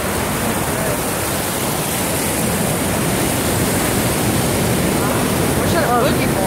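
Ocean surf at Jalama Beach makes a loud, continuous broadband wash of breaking waves, steady throughout with no clear pauses.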